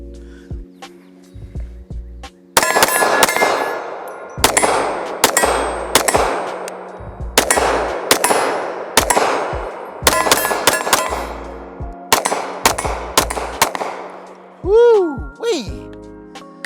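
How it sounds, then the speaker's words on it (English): Shots from an AREX Rex Zero 1 pistol fire outdoors in a steady, evenly spaced string of loud, sharp cracks, each one ringing out briefly before the next. "I just really just don't wanna shoot up a whole bunch of ammo"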